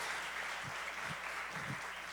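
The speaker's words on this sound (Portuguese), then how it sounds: "Uma salva de palmas para eles." Brief applause from a church congregation, a short burst of scattered claps heard faintly at a distance over room ambience.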